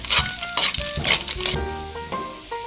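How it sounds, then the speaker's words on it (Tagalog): Ingredients sauté in hot frying oil in a pan until browned while cooking Filipino pork pochero, giving a bright sizzle with stirring scrapes, close and fairly loud, with a few clinks over the short stretch. "Gigisahin po natin ito ng ilang segundo para mag-brown."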